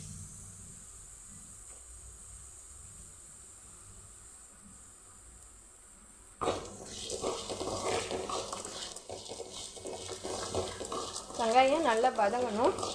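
Small shallots and garlic sautéing in a pan for an ivy gourd thuvaiyal; after several seconds of near silence, a close, steady crackling sizzle starts abruptly and keeps going, growing slightly busier toward the end.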